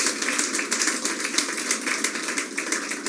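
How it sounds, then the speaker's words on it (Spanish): Church congregation applauding together, a dense continuous patter of many hands clapping throughout, close and loud, with no talk. "De un aplauso al Señor."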